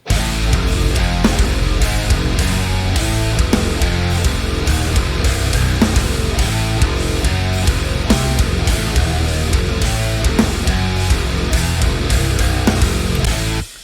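A full, dense song mix plays continuously with steady drums, bass and layered instruments at a consistent loud level, no talking.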